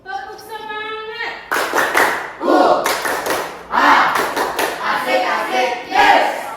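Classroom of students doing a rhythmic spirit clap routine led by a teacher, a short sung cue followed by bursts of loud unison clapping and shouted chant in a patterned rhythm.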